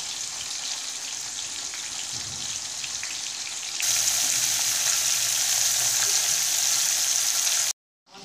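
Cauliflower florets fry in oil with a continuous crackling sizzle that grows louder partway through, then cuts off abruptly near the end.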